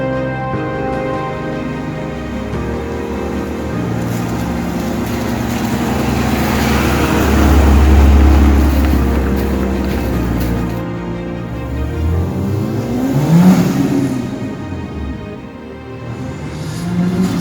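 A homemade turbocharged Peugeot 106 engine revs up loudly nearby, the pitch rising and falling through several pulls with a sustained low roar between.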